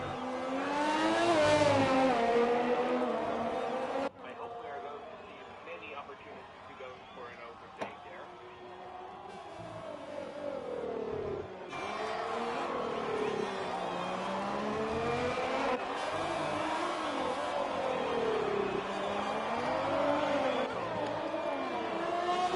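Formula 1 race car engines in the F1 2020 video game at the Mexico circuit, a continuous high-pitched whine that rises and falls with shifts and throttle changes, running steadily under a commentator's voice.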